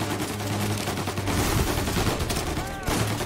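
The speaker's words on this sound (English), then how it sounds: "Who's shooting me?" Gunfire in the video game Mafia: Definitive Edition, dense and continuous like a fusillade or machine-gun burst, loud and close, with some game noise mixed in and no clear speech.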